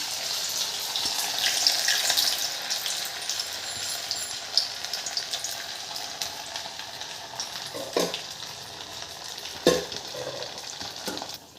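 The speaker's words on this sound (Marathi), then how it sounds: "आपण कढईत तेल ठेवलेलं आहे, आता तळून घेऊया." Steady sizzling of ghari dough frying in hot oil in a kadhai, a continuous crackle with occasional louder pops and clinks of utensils.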